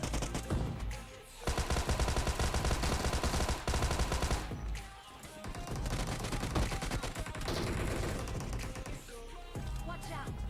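Dense bursts of automatic gunfire from a battle royale game team fight at a military base, rapid, loud, overlapping volleys with short pauses between bursts.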